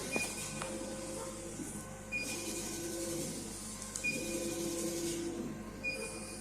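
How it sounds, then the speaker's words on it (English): A laser cutter head travelling over a workpiece gives a steady mechanical hum with whirring and faint whining motor tones that rise and fall as it moves, recorded close with no talk. "by moving this mouse, the head of the laser is moving over the workpiece"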